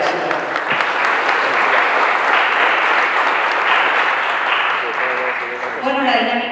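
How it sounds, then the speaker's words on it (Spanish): Audience at a Spanish-language panel on press and cinema applauds steadily for several seconds, a dense, even wash of clapping that fades slightly before a few closer claps at the end. "Un aplauso para ellos,"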